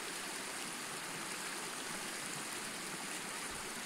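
A small northern forest brook, a trout stream frequented by dippers, rushes and burbles continuously at a steady, even level with no voices.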